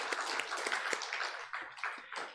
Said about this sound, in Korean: 박수를 올려드립니다.